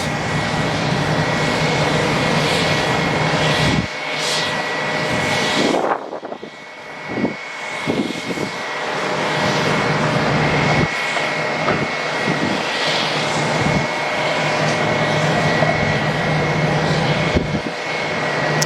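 An Airbus A321 jet at Atlanta airport roars loudly and steadily for a long stretch, with the engine noise dipping briefly and surging again, heard from fairly close.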